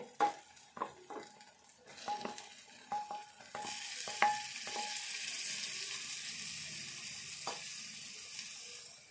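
Fried chicken pieces stirred into hot oil with green chilli paste in a pan, with sharp utensil scrapes and clanks at first, then a steady loud sizzle that runs to the end.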